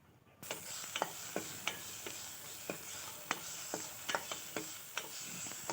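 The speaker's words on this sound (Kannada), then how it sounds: "ಅದಕ್ಕೆ ಸ್ವಲ್ಪ ಅರಿಶಿಣನ ಆ್ಯಡ್ ಮಾಡಿ ಮತ್ತು ಅದನ್ನು ಚೆನ್ನಾಗಿ ಫ್ರೈ ಮಾಡಬೇಕು" Tomato and turmeric fry quietly in a pan for a honagone greens palya, a soft sizzle under repeated light clicks of a spoon stirring against the pan.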